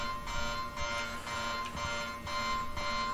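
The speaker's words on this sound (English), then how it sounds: "Oh, the alarm is freaking me out." Pulsing klaxon alarm in the horror game Anthology of Fear, a loud repeating blare rising and falling in steady bursts roughly every half second to second.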